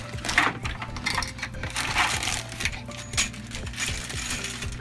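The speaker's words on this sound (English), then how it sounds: "We have some screws in here." Small metal screws from a Fiamma Turbo Vent 28 roof fan install kit shake and rattle in a plastic bag, a busy run of clinks and ticks close by that keeps going through the whole stretch.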